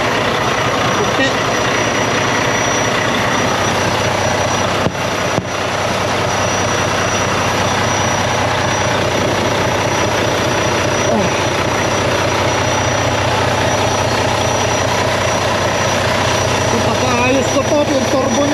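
Truck engine with a turbocharger idling up close: a loud, unbroken drone and rumble with a faint high whine running through it, holding steady throughout.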